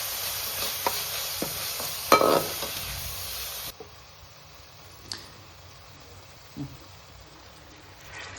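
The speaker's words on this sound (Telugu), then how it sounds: "ఇప్పుడు మనం ఇందులోకి కొంచెం పసుపు తీసి వేసి కలపాలి" Turmeric being stirred into hot oil with sauteed onions for a gongura (sorrel leaf) chicken curry: a steady sizzle with scraping spoon strokes, louder for the first few seconds, then quieter with occasional clinks.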